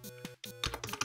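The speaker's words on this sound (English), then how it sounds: "So we're going to type disk util" A terminal command is typed on a Mac computer keyboard, giving a quick run of close, crisp key taps over about a second, with no talk.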